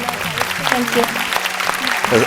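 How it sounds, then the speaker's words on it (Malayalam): An audience claps on a televised musical reality singing contest, a dense, steady round of applause heard close with a voice talking over it. "അത് എടുത്ത് കൊണ്ടുവന്നതിന് ഒരു നല്ലൊരു കൈയടി."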